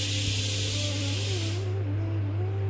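Kitchen pressure cooker whistle releasing steam, a loud continuous hissing jet that cuts off partway through, with a low steady hum beneath it.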